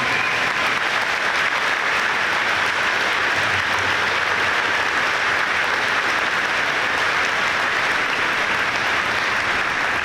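Dense, steady applause from a large audience at a high school graduation ceremony, a continuous loud wash of clapping that holds evenly for the full ten seconds with no talk.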